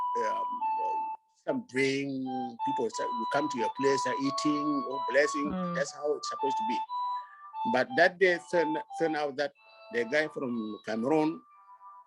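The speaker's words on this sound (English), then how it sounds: "Oh yeah, that's the phone." A phone rings steadily in the background with a repeating electronic tone that runs under someone talking continuously.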